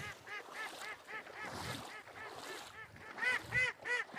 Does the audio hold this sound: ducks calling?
yes